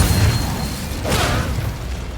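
Incendio fire spell cast in Hogwarts Legacy, a short whooshing burst of flame with a low rumble, loud against continuous game background noise.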